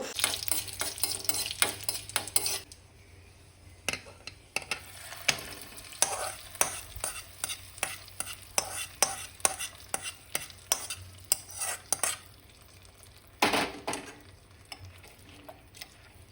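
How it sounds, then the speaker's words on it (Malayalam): Mustard seeds popping and spluttering in hot coconut oil with curry leaves and dried chillies, a rapid irregular crackle of sharp pops over a steady sizzle, close by with no talking. "വെളിച്ചെണ്ണ ഒഴിച്ചു കടുകിട്ടു കറിവേപ്പിൻ്റെ ഇലയും പറ്റൽമുളകും ഒക്കെ ഇട്ട് കൊടുത്തു"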